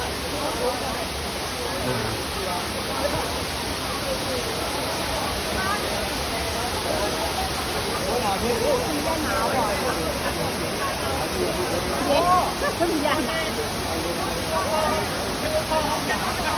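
A waterfall at Phu Si Than near Ban Kaeng Chang Niam, Kham Cha-i district, Mukdahan, Thailand, pours in a steady, dense rushing roar that holds evenly throughout, with faint murmuring voices mixed into the wash.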